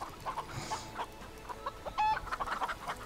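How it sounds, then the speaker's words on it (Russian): Chickens cluck in the Star Stable Online video game, a string of short, close clucks with one louder squawk midway, heard alone. "Раскудахтались тут."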